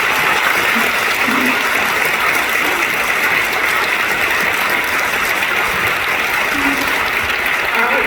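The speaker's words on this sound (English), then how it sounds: "I would love to give a round of applause to Hugh Shine, Governor Abbott, and Mandy" An audience claps continuously, a dense, even roar of applause from a large crowd that holds steady the whole time.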